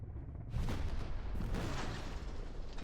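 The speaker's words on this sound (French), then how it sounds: "Boum, explosion." An explosion in the TV series Alice in Borderland, a loud sudden boom with a rumbling roar that swells and sustains for a couple of seconds, heard alone.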